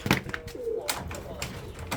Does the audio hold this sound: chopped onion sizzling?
no